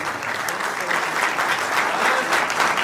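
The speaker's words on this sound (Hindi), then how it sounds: "अपनी तालियों से उनको जन्मदिन की बधाई दीजिए।" Audience applause at a mushaira poetry gathering, a dense, steady wash of clapping that fills the whole stretch at moderate loudness with no voices over it.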